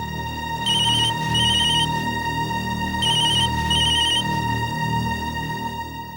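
A telephone rings loudly nearby with a bright electronic trill in paired bursts, the pattern repeating twice over a low steady background hum.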